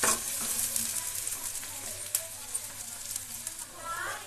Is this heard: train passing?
no